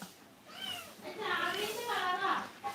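A small kitten meows nearby, with a few short, rising and falling cries in quick succession.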